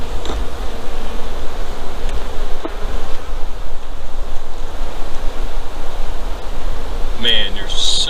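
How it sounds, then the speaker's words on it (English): A dense, steady buzz of many honeybees fills the air up close, with faint rustling and a few clicks. "Man, there's so many bees in this hive"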